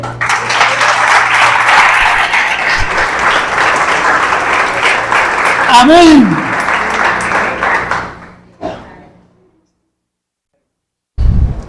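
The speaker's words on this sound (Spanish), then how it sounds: "¿Aplaude al Señor?" A church congregation applauds during a sermon, steady dense clapping for about eight seconds before tapering off, with a short spoken word afterward.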